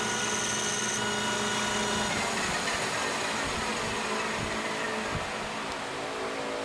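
Metal lathe turning stock with a vertical shearing tool during a roughing pass before threading, a steady broadband machine whir with a continuous hum and occasional scraping bursts, fairly loud and uninterrupted with no talking.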